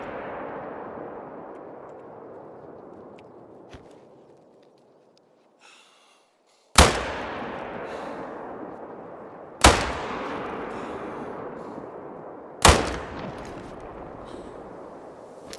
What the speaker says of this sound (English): That was terrible shooting.